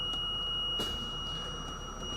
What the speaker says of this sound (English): this annoying alarm, which is very helpful in the event that you tried leaving with them down, will turn off